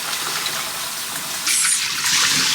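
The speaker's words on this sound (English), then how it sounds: "Gonna give them a rinse." Tap water runs steadily over black lentils being rinsed, a close, hissing gush that grows louder and fuller about halfway through as the flow strikes them, with no talking.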